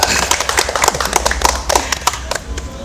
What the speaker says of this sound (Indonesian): Nah, ini Pak Pujo, tepuk tangan.